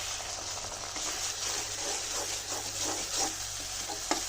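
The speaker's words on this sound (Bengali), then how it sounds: "সুন্দর করে আমি লাড়া দিচ্ছি।" Onions frying in a pan with ground chili, cumin, ginger and garlic pastes, salt and turmeric are stirred over a steady, close sizzle, with rhythmic spoon scrapes and a sharp tap at the end.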